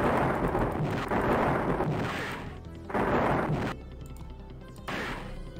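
A lightning spell striking in Quest for Glory 4, heard as repeated rumbling crashes of thunder, loud broadband bursts that rise and fade in waves, separated by brief quieter gaps with game tones.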